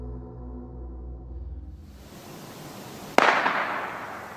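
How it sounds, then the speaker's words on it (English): A single sharp gunshot cracks out in a forest after a low droning hum fades, its report echoing and decaying into the distance. "then gunshots echoed from the forest."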